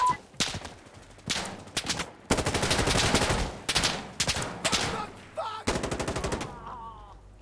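Bursts of rapid gunfire in Insurgency: Sandstorm multiplayer, loud and close, firing in several separate volleys with short gaps and echoing tails between them.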